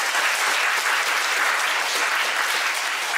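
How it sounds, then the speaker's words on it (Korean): A youth retreat congregation at a church worship service gives loud, sustained applause, many hands clapping in a continuous, even wash with no talk over it. "2박 3일 동안 수고한 모두에게 격려의 박수 한번 보내주세요"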